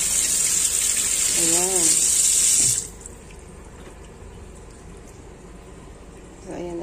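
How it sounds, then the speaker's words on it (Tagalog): Tap water gushes loudly and steadily over a tilapia being rinsed in a kitchen sink, then shuts off after about three seconds, leaving quieter room sound with a brief spoken word. "Nahugasan ko na rin to, pero hinugasan ko ulit."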